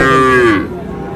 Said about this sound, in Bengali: এখানে বাছুর আছে